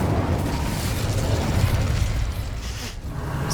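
Incendio fire spell cast in Hogwarts Legacy, a loud roaring whoosh of flame with a dense rumbling burst that holds steady and then slightly fades.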